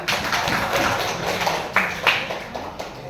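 Classroom applause from students after a non-commercial advertisement observation lesson, a light scattering of claps with a few sharper slaps standing out, fairly close and brief.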